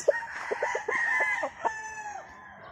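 A black-feathered young rooster, a stag with black hackles, crows once at close range, the call rising then trailing off over about two seconds with a few clucking notes at the start.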